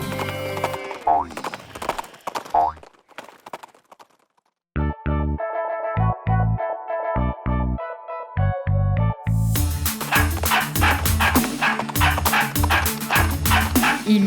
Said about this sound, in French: Et dans cette ferme il avait des chiens